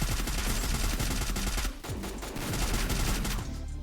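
Rapid automatic gunfire from the Free Fire video game rattles in fast, loud, dense bursts, with a short break and then more shooting.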